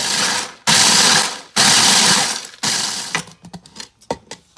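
Waffle cones and graham crackers pulsed in a food processor: three loud, grinding whirs of about a second each separated by pauses, then scattered rattling crumbs and clicks.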